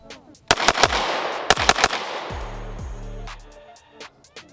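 A Staccato C pistol with a six-pack ported barrel fires in fast strings, sharp loud outdoor shots in quick bursts with short pauses, each trailing into a brief echo.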